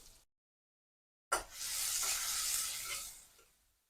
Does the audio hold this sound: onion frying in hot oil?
yes